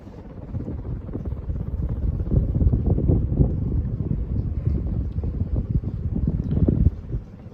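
A Sierra Turbo II ceiling fan heard close up, its spinning blades making a steady, loud whooshing wind noise that runs throughout with no talking.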